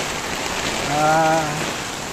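Steady, dense rain from Typhoon Carina hissing on a Manila street, heavy and continuous, with a faint tonal whine rising briefly in the middle.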